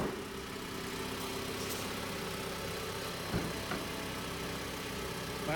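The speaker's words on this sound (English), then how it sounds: "There's a nice quiet running engine." A 2016 Mitsubishi Lancer ES four-cylinder engine, barely broken in, idles quietly and evenly at a steady low hum with faint background sounds.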